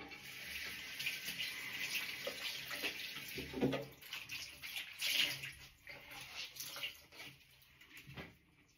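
Tap water runs steadily as a face is rinsed during an evening skincare routine, a soft continuous splash with small bursts of spatter, close by and fairly quiet.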